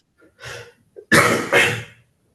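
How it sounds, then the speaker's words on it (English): A person coughs close to the mic, a short muffled cough followed by two loud, harsh bursts in quick succession against an otherwise silent background. "hey, who's coughing?"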